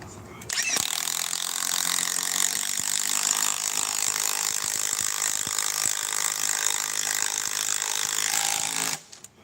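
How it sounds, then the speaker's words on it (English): A Milwaukee power tool drives an 8-inch lag screw into a small pilot hole in wood. The loud, steady mechanical whirring and grinding runs almost unbroken for about eight seconds, then stops abruptly. "This looks like an 8-inch lag. Let's put it in a small hole right about here with the Milwaukee."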